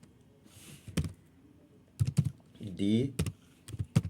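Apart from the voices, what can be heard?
typing on a computer keyboard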